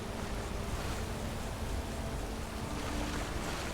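Waterfall rushing in the Skyrim Special Edition video game, a dense continuous roar of falling water, loud and steady throughout with no speech.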